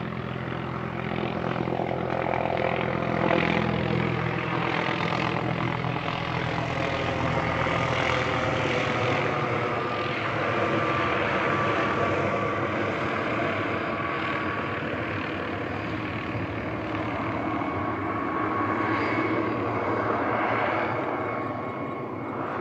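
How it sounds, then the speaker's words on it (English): Police helicopter flying overhead, a continuous droning engine and rotor hum that holds steady and fairly distant throughout, with no talking. "This is a police helicopter, by the way."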